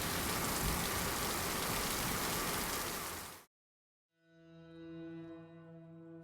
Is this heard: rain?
yes